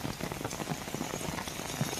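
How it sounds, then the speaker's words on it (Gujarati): Heavy monsoon rain falls in Khambhalia, Dwarka, making a faint, steady hiss of many patters and drops with no voices. "વહેલી સવારથી જ મેઘરાજા મહેરબાન થઈને વરસી રહ્યા છે"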